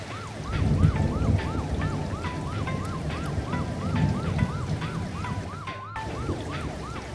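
Ambulance siren in the video game Avatar World, a repeating rising-falling wail looping steadily over rumbling rain-like background noise, cutting off abruptly near the end.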